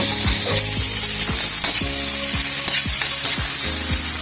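Onions hitting a hot pan of nagbalon soup sizzle steadily, with a continuous frying hiss broken by repeated clacking, ratchet-like taps of a utensil against the pan.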